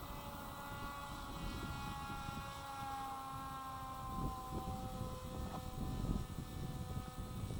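A small RC plane flies overhead, its propeller producing a faint, scratchy buzz with shifting tonal whines that carries on steadily throughout, with no talk.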